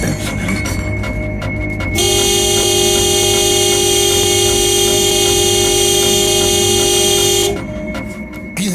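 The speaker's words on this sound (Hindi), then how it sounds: "ऐसे हॉर्न क्यों बजा रहे हो?" A car horn blaring in one long sustained blast lasting several seconds, loud and close over traffic rumble, with shorter background sounds before and after.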